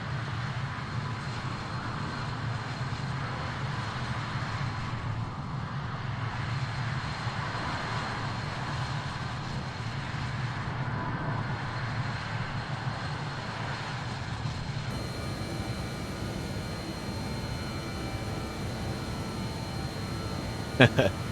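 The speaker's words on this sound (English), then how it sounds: "Southwest 4617, the winds, our comm runway 25 right, clear to land." A Southwest airliner coming in to land on runway 25 right gives a steady, loud engine roar in the cockpit that lasts the whole time, with radio voices and talk over it.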